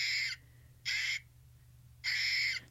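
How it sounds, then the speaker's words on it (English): An Audubon plush toy eastern gray squirrel plays its recorded call: three harsh, raspy bursts with short gaps between them, close and fairly loud over a low steady hum. "This little guy is the eastern gray squirrel."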